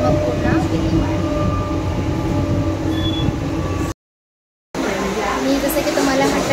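A Mumbai local train runs from Mulund toward Thane with a loud, steady rumble and rattle of the carriages, broken by a short gap of silence before the running noise resumes.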